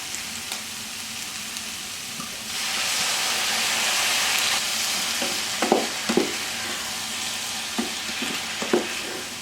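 A pan sizzles as white wine and a stock cube are added, with a louder hissing surge of steam partway through, then a softer fry broken by a few clinks of stirring. No voices are heard.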